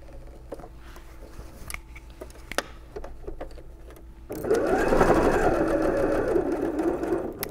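A sewing machine stitches a seam on an apron strap, starting after a few light ticks and handling clicks, then running in a loud, steady, close whir to the end.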